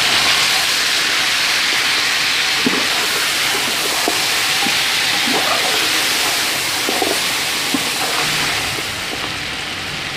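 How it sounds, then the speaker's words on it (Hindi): Mutton pieces fry with onions in ghee in a large pot, producing a loud, continuous sizzling hiss broken by a few faint clinks of a stirring utensil. "अब ये जो मटन है इसमें शामिल कर देंगे और इस मटन को प्याज के साथ अच्छी तरह से भून लेंगे"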